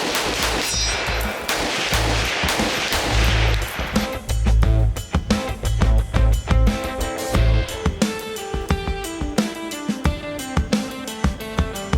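Rapid gunshots from CMMG firearms crack out in a dense volley, loud sharp reports repeating irregularly at close range over a steady tonal background.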